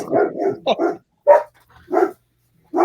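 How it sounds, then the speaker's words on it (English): Several dogs bark excitedly at an intruder, with loud, close barks in separate bursts and pauses between them, and no talk over them. "You got an intruder there, Ron, somewhere. Dogs are going nuts."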